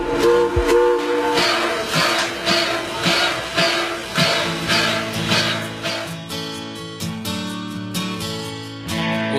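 A steam train of the Cantareira tramway lets off steam, heard as a loud, steady train sound with rhythmic pulsing chuffs and sustained whistle-like tones throughout.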